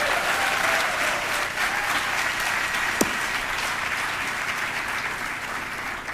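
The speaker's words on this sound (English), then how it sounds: "let's give all our faculty and staff a round of applause." Steady audience applause for faculty and staff at an awards celebration, a dense, sustained clapping from a large crowd that continues evenly throughout with no talk over it.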